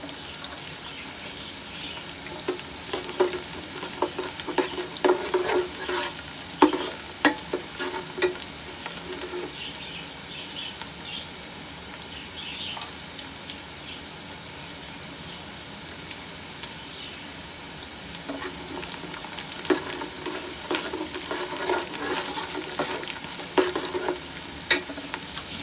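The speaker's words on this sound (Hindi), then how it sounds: "प्याज को हम फ्राई करेंगे।" Onions fry in a pan for shahi aloo pulao, giving a steady close sizzle broken by scattered scrapes and clicks of stirring, with no voices.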